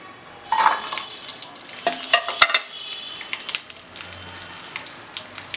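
Green chilies fry in oil in a pan for an onion and green chili chutney, with a close crackling sizzle broken by sharp metallic clinks and scrapes of stirring.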